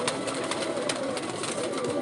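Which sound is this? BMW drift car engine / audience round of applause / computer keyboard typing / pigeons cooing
pigeons cooing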